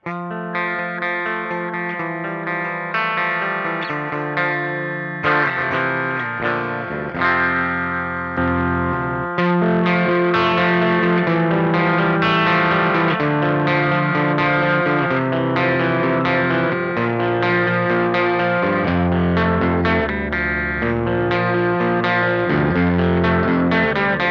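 Electric guitar played through the blues breaker side of a Beetronics Wannabee pedal, all knobs at half, gives loud overdriven chords and sustained notes in a steady, continuous riff.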